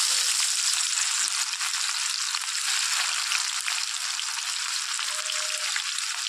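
Chopped onion sizzling in hot oil with caramelised sugar for a Bengali shol fish kalia, a dense, steady frying hiss that holds at a loud, even level throughout with no talking.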